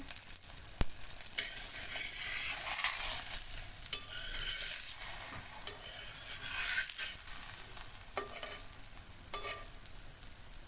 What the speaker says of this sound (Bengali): এটা এবারে লো ফ্লেমে ভেজে নেব আস্তে আস্তে।